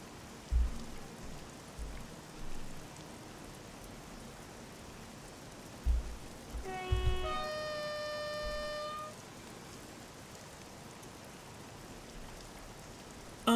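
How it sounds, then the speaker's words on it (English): Steady soft rain patters throughout in Train Simulator 2022 on the North Wales Coastline, a faint even hiss with a few low thumps and a brief tonal chime in the middle. "It is Wales, so it is raining."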